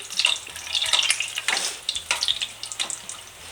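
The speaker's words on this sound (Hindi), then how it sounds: "ऐसे इस पर गरम गरम ऑयल डालेंगे" Hot oil spooned over a puffing kachori in a pan sizzles in a near, bright hiss, swelling in short bursts as the oil is poured over.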